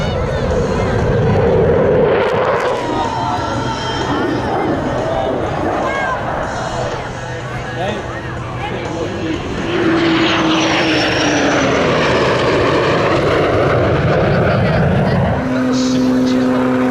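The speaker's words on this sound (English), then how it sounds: "From the left, here are your Louisiana Air National Guard F-15 Eagles." Louisiana Air National Guard F-15 Eagle fighter jets sweep past at an air show in Hammond, Louisiana, a loud sustained roar that swells and shifts in pitch as they pass, with a public-address announcer talking over it.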